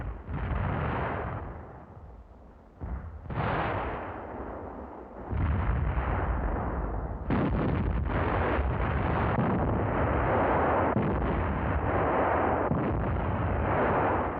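Artillery fire lands on the enemy side at the front, a continuous rolling rumble of impacts and blasts from a distance, swelling louder and denser toward the end with no voices.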